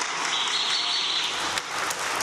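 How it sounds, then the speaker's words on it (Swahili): Crowd applause for the Young Africans (Yanga SC) football club at a members' gathering, a steady dense wash of clapping that carries on for the whole stretch, loud and continuous with no talk over it. "Tujipigie makofi Young Africans."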